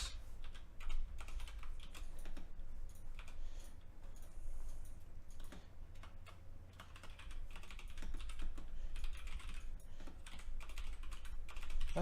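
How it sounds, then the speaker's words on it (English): Computer keyboard typing, rapid and steady clicks running throughout at moderate level over a low background hum, with no speech. "I cannot type today."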